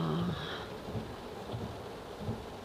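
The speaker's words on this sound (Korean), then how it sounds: "비가 이렇게 쏟아져도 아주 강심장인데" Heavy rain pours steadily onto a rental car driving on a road, a continuous dense wash of noise with low rumbling throughout, no voices.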